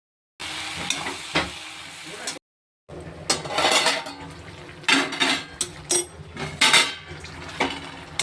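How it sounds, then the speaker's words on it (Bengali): A utensil stirs greens (saag) with spices in a sizzling cooking pot, giving irregular scraping strokes over a low fry, with a brief pause before the stirring picks up again. "শাকটা যাতে মশলাটা সম্পূর্ণ মিশে যায়, সেই জন্য একটু ভালো করে নাড়াচাড়া করে নিই"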